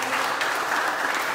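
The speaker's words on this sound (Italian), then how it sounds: "farei un applauso nuovamente per il World Refrigeration Day" An audience at a World Refrigeration Day seminar claps steadily, a dense, even burst of applause from a room of people.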